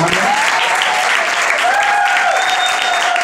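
Loud, dense audience applause for a Mexican beatboxer, continuous clapping throughout with a few whoops and cheers rising above it.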